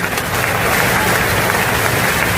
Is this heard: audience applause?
yes